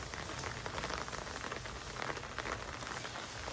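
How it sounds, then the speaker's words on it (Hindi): Steady rain falling outside a balcony, a dense continuous hiss and patter of drops on surfaces, fairly close and even throughout with no voices. "ये देखो बारिश अभी लगी हुई है"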